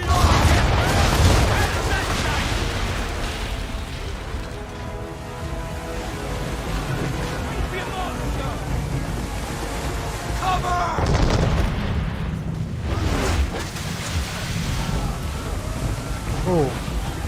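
Cannon fire from a ship in Assassin's Creed 3, heavy booming blasts rolling over a constant churning din of sea and battle, with a voice talking at times.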